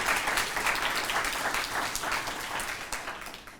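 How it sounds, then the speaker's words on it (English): Audience applause at a high school speech competition, steady dense clapping filling the room for several seconds, fairly loud with no talk over it. "Let's give them a round of applause for reaching this round."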